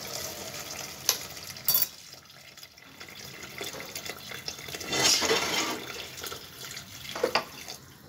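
Warm water pours from a tap into a cocotte of white beans in a home kitchen, a steady splashing flow with brief louder gushes rising and falling over several seconds, no voices.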